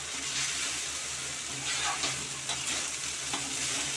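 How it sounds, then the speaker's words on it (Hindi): Masala pasta frying in a pan, a continuous bright sizzle with occasional scraping stirs from a utensil, fairly close and steady throughout, no voices over it. "अब 1 मिनट और इसे भून लेते हैं, फ्राई कर लेते हैं इसे"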